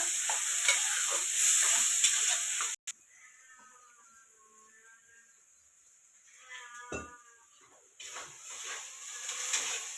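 Ground masala paste sautéing in oil for misal gives a steady close sizzle that drops away for several seconds, with faint tonal ringing and a single knock, then returns strongly near the end; no one speaks.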